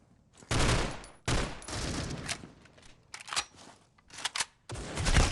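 Rapid bursts of automatic gunfire in a competitive tournament video game match, several loud clusters of shots separated by brief pauses, with no talk over them.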